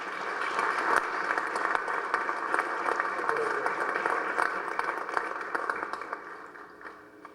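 A room of delegates applauds the secretary general at a regular meeting of the Association of Caribbean States Council of Ministers, a steady, moderately distant wash of clapping that tapers off near the end.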